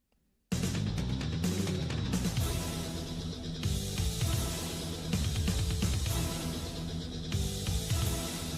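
A dense, driving metal track from the Megaman X5 video game soundtrack. Loud distorted guitars and pounding drums play steadily throughout, with no voices.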